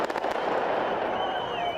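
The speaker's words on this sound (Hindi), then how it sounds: "दिन के उजाले में पटाखे जलाकर प्रदर्शनकारियों ने आतिशबाजी भी कर दी।" Fireworks set off by protesters in daylight in La Paz, Bolivia: a loud, dense, continuous crackle of bursts, with a thin whistling tone rising through the second half.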